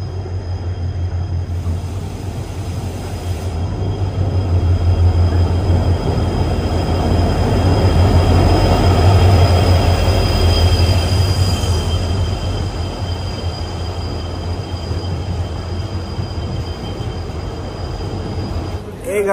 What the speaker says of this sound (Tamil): நம்ம ட்ரெயின் பார்த்தீங்கன்னா வந்துடுச்சுங்க. ஸ்டேஷனுக்குள்ளார வந்துடுச்சு.